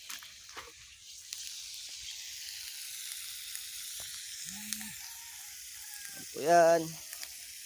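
Food sizzles and hisses steadily in a frying pan while being stirred, with a short spoken phrase and a brief tonal squeak near the end over the constant frying.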